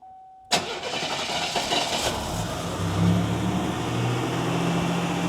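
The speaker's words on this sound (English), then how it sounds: "All right, fire her up. Fire her up." A Buick Grand National engine cranks and catches after a moment of near silence, then settles into a loud, steady idle with a low rumble.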